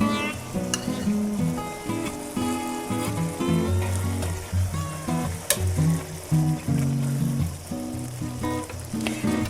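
Tomato puree sauce with tomato paste being stirred in a hot pan for chicken cacciatore, giving a steady close sizzle and frying hiss with soft scraping stirs, alone with no talk.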